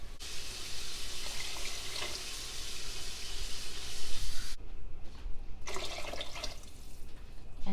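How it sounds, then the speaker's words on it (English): Six cups of water pour into a cooking pot in a home kitchen, a steady splashing stream that breaks off partway and then resumes in a brighter gush. "next I'm going to add the 6 cups of water"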